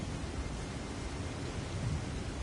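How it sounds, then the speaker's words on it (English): Low thunder rumbles steadily in the background throughout, a dull, continuous noisy roll with no sharp crack and no voices. "Just as I said that, like thunder went off in the background"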